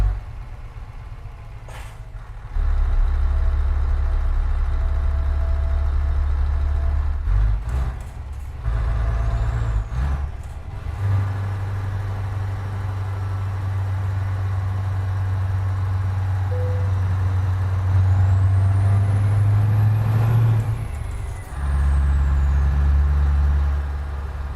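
A truck in Euro Truck Simulator 2 rumbles with a deep, steady engine drone that rises and settles over about twenty-five seconds, broken by several sharp hissing bursts of air brakes, close and loud with no talking.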